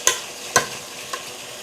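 Sauce goes into a frying pan with peppers, and three sharp bursts of sizzling and stirring rise from a low, steady frying hiss. The pan is close, and no one speaks.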